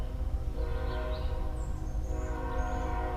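A train passes outside a house in the country, a steady low rumble with layered horn-like tones and a high whistling squeal drifting in and out, fairly loud throughout with no talking.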